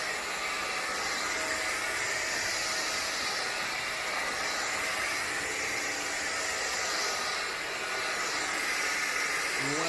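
Hoover Floormate Jet floor cleaner spraying cleaning solution onto a floor, a steady loud hiss and motor whir that holds evenly throughout without breaks.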